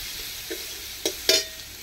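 A spoon stirs fried onion and ginger garlic paste in a pan over a soft sizzle, with three short scraping strokes, the last one loudest.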